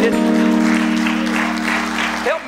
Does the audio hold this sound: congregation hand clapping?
yes